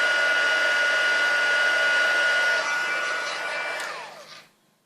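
Heat embossing tool blasting hot air over a stamped card for a Stampin' Up cookie cutter shaker card, a loud steady whirring blow that runs for about four seconds before it switches off and winds down.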